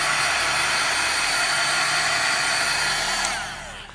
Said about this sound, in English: We're going to dry it because once it's dry, we will be able to put the liquid applique at the bottom of this card